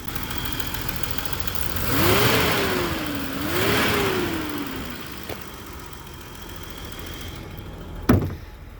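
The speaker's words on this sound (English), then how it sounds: "you'll hear a lot of clicking that's coming from the cylinder head" A 1990 BMW E34 535i with a five-speed runs at idle, its solid-lifter cylinder head giving off a steady light ticking under a low engine hum. The engine is revved twice, with a sharp knock near the end.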